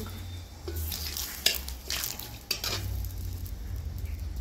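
Bay leaves dropped into hot oil for a Bengali mixed vegetable curry give a soft, steady sizzle with faint stirring clinks, two sharper taps standing out against a low background hum.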